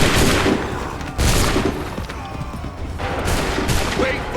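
Musket volleys crack out in Assassin's Creed III, several loud massed bursts separated by short pauses, with harsh broadband blasts dominating the mix and a faint voice beneath.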